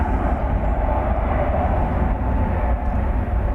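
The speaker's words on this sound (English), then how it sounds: "There's a Frontier plane going to Las Vegas." A Frontier Airbus A321 roars steadily at Dallas Fort Worth Airport at night, a loud, continuous broadband jet rumble with no break.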